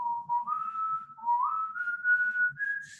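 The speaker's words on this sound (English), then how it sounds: "if you have a student who can whistle the nocturne" A person whistles a nocturne melody alone. The clear sustained tone glides slowly upward through several held notes, with faint breathy noise underneath.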